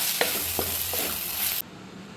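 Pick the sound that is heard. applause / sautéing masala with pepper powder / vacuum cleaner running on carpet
sautéing masala with pepper powder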